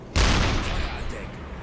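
Deck gun of a U-boat in the UBOAT video game firing a single loud boom with a sudden onset, then a long rumbling, crackling decay that trails off over a second and a half.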